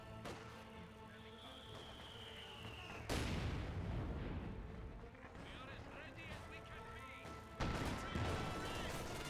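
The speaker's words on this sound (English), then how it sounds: "Landmine detonation from a stray mortar." In a Company of Heroes 2 battle, a landmine set off by a stray mortar lands as a sudden heavy blast, with a second sharp boom later amid scattered gunfire and someone talking over it.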